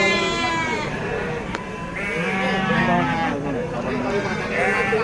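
Sheep bleat repeatedly and loudly at a crowded livestock market in Bedo Agung, Trenggalek, East Java, with several animals calling over one another against steady crowd murmur and talk.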